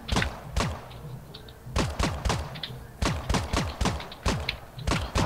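Gunfire in the video game Creative Destruction, a rapid run of sharp close shots in clusters, a few quick bursts separated by brief gaps, with no talk over them.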